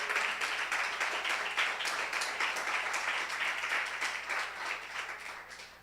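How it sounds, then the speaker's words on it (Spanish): A church congregation gives a strong round of applause during an evening service, a full, sustained roar of many hands clapping in a reverberant room, with faint voices mixed beneath. "denle un fuerte aplauso al Señor"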